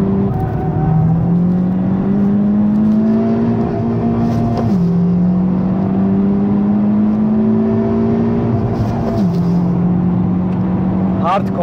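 A Honda Civic Type-R FK2 hot hatch accelerates hard under throttle, its engine note climbing steadily through the gears with two clear upshifts, loud and close from inside the cabin while people talk over it.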